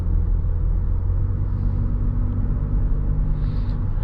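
Inside a 2021 Toyota Highlander XSE AWD, a smooth, steady low rumble of road and engine noise fills the cabin as the SUV gathers speed, with no one talking.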